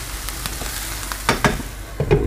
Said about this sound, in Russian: Лучок наш продолжает готовиться. Также помешиваем и грибки.